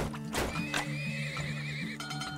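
Horses in the oil-drilling video game Turmoil let out a long, wavering whinny of more than a second, set among quick clip-clop hoof knocks and a low steady background tone.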